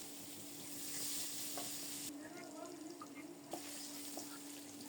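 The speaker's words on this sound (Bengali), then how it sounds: "ওই তেলেই সামান্য করে কালো জিরা ফোড়নে দিয়েছি। 2-3 সেকেন্ড পর এখন দেব কুচানো পেঁয়াজ।" Chopped onion goes into hot oil already tempered with nigella seeds in a home kitchen, giving a steady sizzling hiss with some stirring and a small clatter partway through, close and moderately loud.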